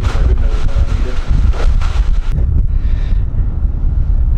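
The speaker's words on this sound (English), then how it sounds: "because it is so cold and windy" Loud gusty wind on a cold day buffets the microphone, a rough low rumble that surges and then eases toward the end.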